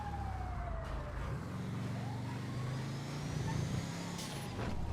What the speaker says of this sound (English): That was the same ambulance coming around